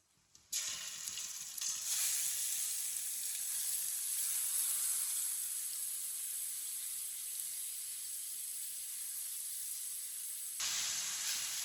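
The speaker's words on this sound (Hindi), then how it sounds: "ऑयल को मैंने थोड़ा सा गर्म कर लिया, कद्दूकस की हुई गाजरें डाल लेंगे।" Grated carrots dropped into warm oil in a pan, a sudden loud hissing sizzle that holds steady for about ten seconds before cutting down, with no talk.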